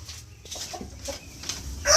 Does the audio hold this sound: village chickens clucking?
yes